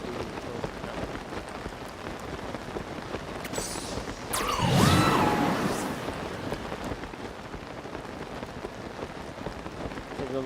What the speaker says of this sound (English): There's a lightning phenomena somewhere in this area where it's just constant rain and lightning.